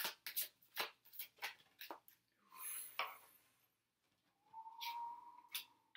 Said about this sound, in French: Je viens de siffler.